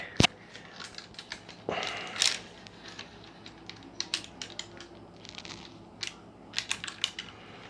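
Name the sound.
unwrapping and yanking guitar strings off a Strat copy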